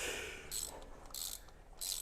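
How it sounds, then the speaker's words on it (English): A ratchet wrench clicks in three quick bursts while tightening a bolt on a four-cylinder Ford Foxbody engine, each burst a rapid run of close, crisp clicks separated by short pauses, with no talk. "don't make jokes about me freaking ratcheting this for an hour"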